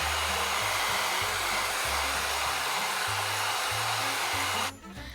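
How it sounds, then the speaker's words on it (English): A hair dryer blows steadily and loudly on a craft wreath being made with Dollar Tree lettering, a continuous whooshing roar with a low humming motor that cuts out near the end. "her hairdryer are back. So we're going to get this dry so we can get this done"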